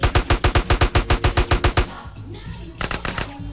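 Rapid automatic gunfire from GTA San Andreas, a steady burst of about a dozen loud, evenly spaced shots that stops abruptly, followed by a brief lull and then a few more scattered shots.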